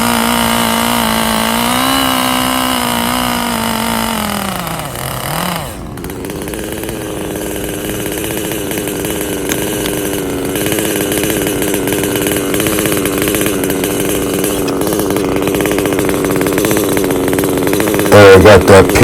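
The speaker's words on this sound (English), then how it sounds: "So now I can cut more of the wood down close to the ground with good control" A Stihl 881 chainsaw cuts through a big wood log close to the ground, running loud and steady at full throttle, dipping briefly around five seconds as it bogs in the cut, then revving hard again through to the end.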